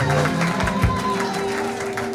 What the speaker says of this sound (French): acclamation of the people of God